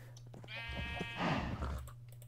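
A Minecraft sheep bleats twice in a wavering, nasal call, close and clear over a steady low hum, with no one talking.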